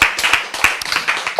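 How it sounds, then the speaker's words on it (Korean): A handful of people clap in short, sharp, somewhat uneven strikes, close and fairly loud, forming a brief burst of light applause. "박수"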